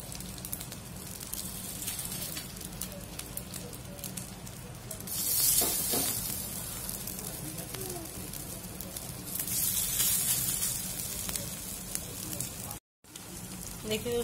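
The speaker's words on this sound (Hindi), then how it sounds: "तेल गर्म हो चुका है। अब इसको डाल के सेक लेंगे।" Poha batter sizzles and crackles in hot cooking oil in a home kitchen, a continuous frying hiss that swells louder twice as more goes into the pan.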